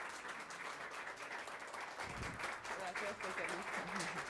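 An audience at a business talk breaks into applause, close and fairly faint clapping that thickens after a couple of seconds, with voices murmuring underneath.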